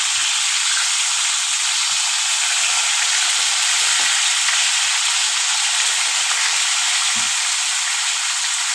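Mustard-poppy paste hits frying bhola fish in hot oil, giving a steady, loud, close sizzle throughout with faint scraping underneath.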